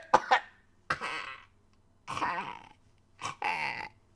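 Four separate coughs close by, harsh and raspy, each a short bark followed by a rough exhale, with brief silent pauses between them.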